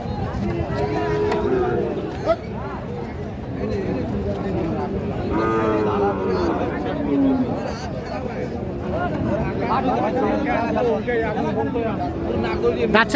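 Cattle, medium-sized bulls at a busy livestock market in Noakhali and Chittagong, moo repeatedly with low drawn-out calls over a steady crowd babble and voices nearby.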